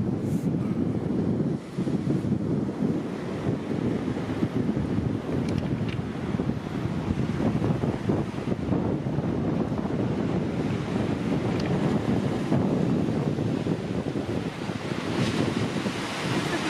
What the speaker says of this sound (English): that wind's pretty sharp